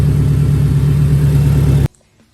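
An 800hp all-wheel-drive Honda Del Sol engine runs loud and close with a steady low rumble, then cuts off abruptly near the end, leaving near silence.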